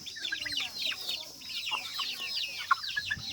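A flock of chickens clucks and chatters steadily in overlapping calls, moderately loud, with no one talking.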